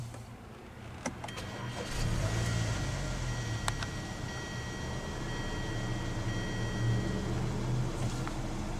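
A 2014 Hyundai Sonata SE with a 2.4L engine starts by push button: a few clicks, then the engine catches and settles into a steady low idle, heard from inside the car.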